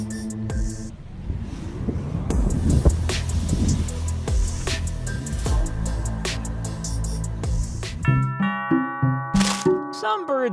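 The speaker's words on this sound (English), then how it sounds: "Some birds get very nervous when they hear a doorbell." A two-tone doorbell chime rings out clearly near the end, following a busy stretch of engine noise and background talk.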